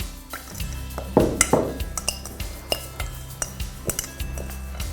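A bowl is handled and greased with oil in a kitchen, with a series of close clinks, taps and scrapes of dishes and utensils, some sharper knocks early on, then lighter, irregular contacts, with no talking.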